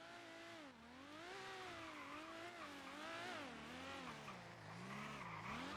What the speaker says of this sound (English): Car sounds like a spaceship.